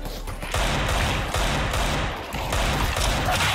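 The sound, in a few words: gunfire in video game Counter-Strike 2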